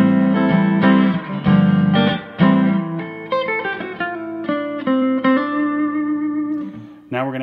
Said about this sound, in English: Neck pickup with reverb.